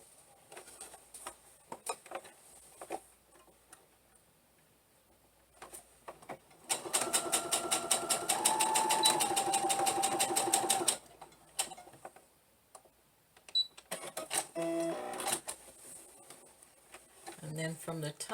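A sewing machine stitching down garment fabric runs in one fast, even burst of rapid needle clatter lasting several seconds, close by, framed by quieter handling noises and brief talk before and after.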